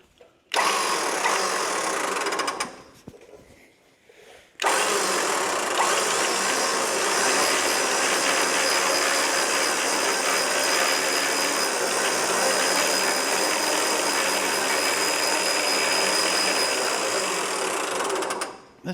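A rebuilt old winch running fast as it pulls rope onto the drum, a loud, steady mechanical whir close by that stops briefly and then resumes for a long, even run.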